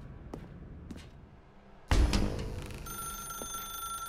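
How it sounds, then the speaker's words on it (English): A telephone rings in The Stanley Parable: Ultra Deluxe, a sharp, loud burst with a bright sustained tone that follows a couple of faint earlier clicks in a quiet room. "Now pick up the phone."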